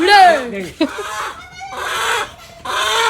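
A rooster crows loudly up close, a long harmonic call at the start, followed by several bursts of fowl calling separated by brief gaps.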